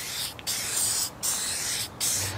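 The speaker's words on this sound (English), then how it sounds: "So we're gonna go through and evenly spray." SEM vinyl prep is sprayed from a can onto vinyl car interior pieces from a 1967 Chevy Impala: three close, loud, hissing bursts with short pauses between them.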